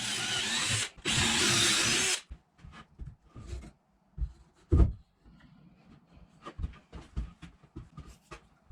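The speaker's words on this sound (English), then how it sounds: "then drilled pocket holes to hold the 2 components together" A power drill bores pocket holes into 150-year-old barn wood in two loud, sustained bursts, followed by quieter scattered taps, clicks and handling noises from the workpiece.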